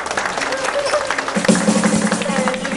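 An audience at a Khmer party in Auckland claps steadily to welcome a singer. The applause is a dense, sustained patter mixed with crowd noise and a voice speaking over it.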